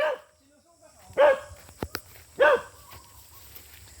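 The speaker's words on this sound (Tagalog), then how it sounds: "Yan, aso po namin yan." A farm dog on a muddy field path gives two separate barks about a second apart, at moderate distance, over faint footsteps and outdoor background noise.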